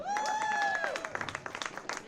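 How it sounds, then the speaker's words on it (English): Crowd applause at an outdoor Christmas tree and menorah lighting, a short burst of scattered clapping that fades after a held tone at the start. "Big round of applause for them."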